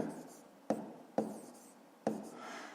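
A pen writes on paper while a Grade 5 math division problem is worked out, with a soft steady scratching interrupted by three sharp taps or strokes, close and fairly quiet.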